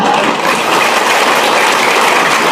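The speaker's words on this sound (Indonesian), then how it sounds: "Tidak, jangan tepuk tangan." A crowd claps at an Islamic religious lecture gathering, a dense, loud and steady wash of applause with no voices over it.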